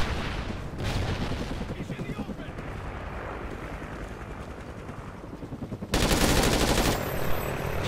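Sustained automatic gunfire in the Call of Duty: Ghosts multiplayer game, a dense rattling barrage, loud and continuous, with an enemy Hind helicopter nearby and a sharper, louder burst near the end.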